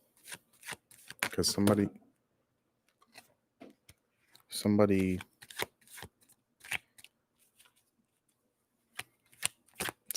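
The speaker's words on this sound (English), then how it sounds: "I'm going to pull 2 more cards" Tarot cards are shuffled and pulled in two brisk, papery bursts, close and clear, while someone talks between and around them.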